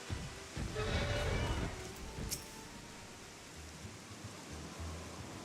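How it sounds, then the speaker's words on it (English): Rain in the Final Fantasy XIV video game falls as a constant hissing wash with a low rumble beneath it. It is a little louder at the start and then steady, with no talking. "And 'tis raining."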